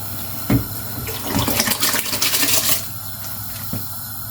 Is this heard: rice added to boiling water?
yes